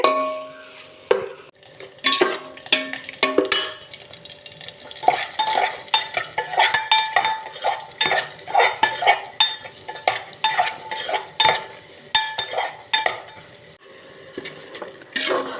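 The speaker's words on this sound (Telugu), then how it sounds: "బెల్లం కరిగి మళ్ళా కరిగిన నీరు కూడా ఇంకే వరకు కలుపుకుంటూ ఉండాలి" A spoon stirs melting jaggery in a pan for carrot laddu, making rhythmic clattering scrapes against the metal over a soft background sizzle, loud and close throughout, with no voices.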